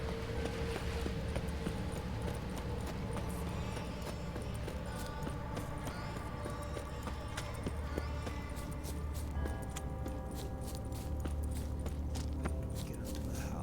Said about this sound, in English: I accidentally tried to call the horse.